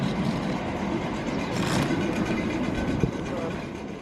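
A South Western Railway train runs along the Windsor and Eton branch, heard from inside as a steady loud rumble with a soft clack near the end and a voice talking over it.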